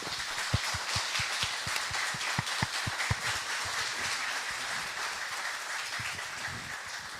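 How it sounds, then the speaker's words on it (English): An audience at a sheriff-hosted public immigration panel gives steady, dense applause, with a few crisp individual claps standing out close by early on before the sound settles into an even roar. "So can we give them a round of applause?"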